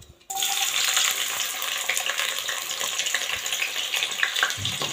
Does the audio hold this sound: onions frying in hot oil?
yes